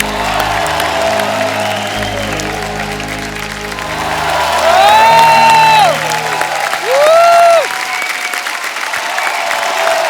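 A television comedy studio audience applauds and cheers loudly over background music, with whoops and voices rising above the clapping in the second half.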